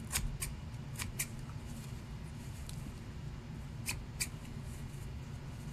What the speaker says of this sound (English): And then we'll cut off all the little extra strings coming from the sewing job sis did.